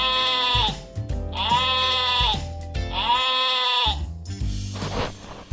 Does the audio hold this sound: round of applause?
no